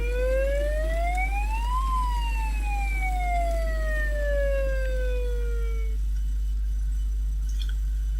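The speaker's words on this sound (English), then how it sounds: "The town has its own fire station and fire engines which dash to emergencies with their blue lights flashing." A fire engine siren on a model railway layout gives one rising and falling wail that stops after about six seconds. A steady low hum runs underneath, fairly close, and no one speaks.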